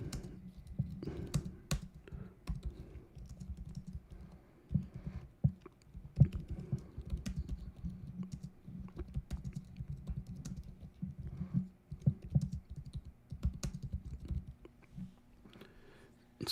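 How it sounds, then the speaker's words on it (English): Someone types on a computer keyboard placed close to the microphone, quick irregular bursts of clacking keys with short pauses, near and fairly soft. "my keyboard is right in between my mic, so I'm like halfway trying to type"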